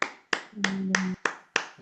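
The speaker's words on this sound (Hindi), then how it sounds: "एक ठो सब कोई ताली दे" Church congregation clapping together during a sermon, six sharp claps spaced evenly in a steady rhythm, with a brief sustained low tone in the middle.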